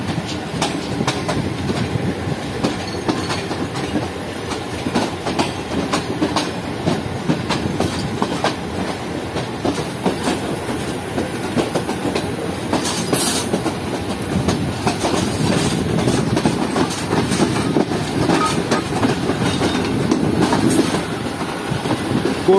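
The Shah Hussain Express rolls from platform 2 onto the main line with a steady, close rumble of wheels and rhythmic clickety-clack over rail joints, continuous throughout and without talk.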